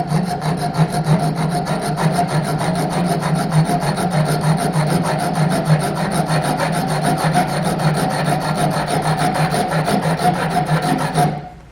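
A file works steadily at a 1/2-inch copper pipe to open a hole during refrigeration and air-conditioning practical exam work, giving a loud, continuous close-up rasping scrape that runs without pause and then stops abruptly.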